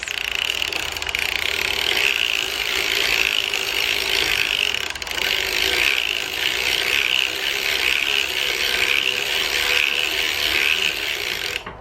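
A hand-cranked sock knitting machine advances row after row with a steady, continuous mechanical ratcheting clatter, close and fairly loud, running unbroken and without speech.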